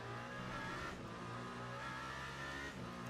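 A BMW M4 race car at Imola GP in the Le Mans Ultimate simulator, its engine a steady, faint high drone blended with other cars on track.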